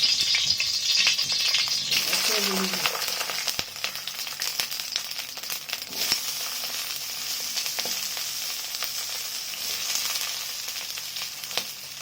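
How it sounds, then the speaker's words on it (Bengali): Taruli frying in hot oil in a wok makes a loud, constant crackling sizzle, with intermittent rattling scrapes from stirring across the whole span. "তরুলিগুলো আগে আমি ভেজে নেবো"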